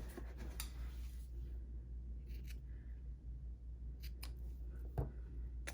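Scissors snipping off ribbon ends on a handmade Easter card, a few quick, faint, crisp snips scattered over a low steady background hum.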